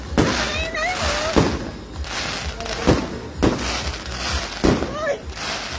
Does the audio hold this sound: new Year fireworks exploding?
yes